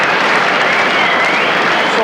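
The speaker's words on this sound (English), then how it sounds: "So applause" Football crowd at a 1993/94 Huddersfield Town match applauding, a loud continuous roar of clapping and crowd noise with a match commentator talking over it.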